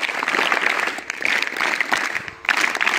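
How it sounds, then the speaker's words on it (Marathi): Sustained applause from a school assembly crowd for a student who gave a speech in Gujarati, a dense continuous wash of many hands clapping that dips briefly near the end before swelling again. "म्हणून तिच्यासाठी अगोदर 3 टाळ्या वाजवा"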